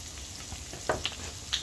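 Flour cooking in sausage fat and oil in a pan for gravy, a close, steady sizzle and crackle with a few small pops over under two seconds.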